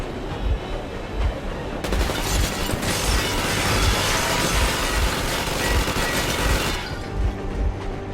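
Sustained machine gun fire in the video game Metro Exodus, warning shots aimed at a train, a loud dense roaring burst lasting several seconds over a rhythmic rumble of the moving train.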